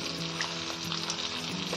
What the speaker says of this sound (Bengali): এবার এগুলো একটু ভাজা হবে